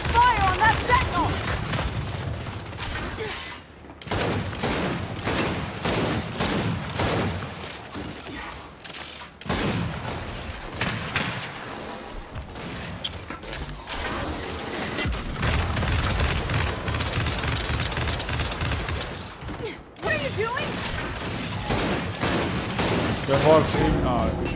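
Sustained gunfire against a sentinel in Gears 5 insane co-op, bursts of automatic fire and booming impacts with mechanical clanks, loud and continuous over about twenty-five seconds, with players shouting over it.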